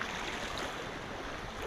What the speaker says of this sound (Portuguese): Só vê o barulho das águas